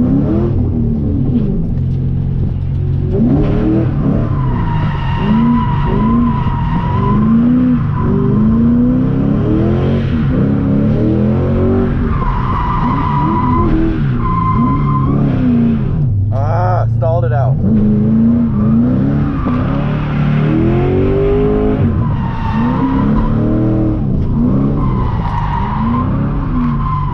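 A drift car on nearly bald tires slides with long, loud tire squeals over a steady, roaring engine that revs up and down throughout. A brief gap in the squeal comes midway.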